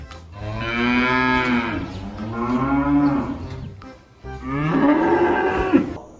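A cow from a toy animal figure display moos three times in long, loud, drawn-out calls, with a short pause between the second and third.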